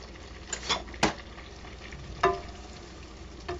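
Sweet potatoes stir-frying in a pan for a veggie stir-fry, giving a steady close sizzle broken by a few sharp scrapes and clacks of a utensil against the pan.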